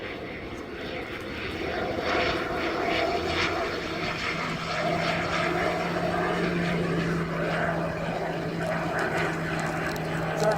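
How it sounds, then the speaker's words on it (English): Turboprop aircraft taxiing at the Oshkosh airshow, a steady droning propeller and turbine hum with a sustained whine, moderately close and continuous, with faint voices in the background. "It's a jet prop."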